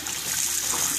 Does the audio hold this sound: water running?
yes